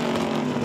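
A race car roars past on a Brazilian endurance circuit, a loud, brief engine drone at speed heard close by.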